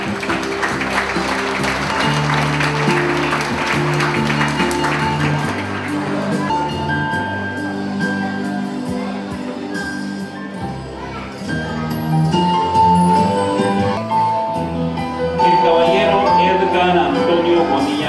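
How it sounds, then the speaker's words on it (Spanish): Applause at a school graduation ceremony for the Doctor Guillermo Manuel Ungo school, a steady crowd clapping that runs throughout, mixed with music and bright tinkling tones. "Fuerte el aplauso, por favor."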